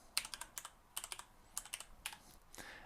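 Someone types a password at a computer keyboard with a quick, steady run of sharp, close key taps, roughly a dozen evenly spaced clicks with no one talking.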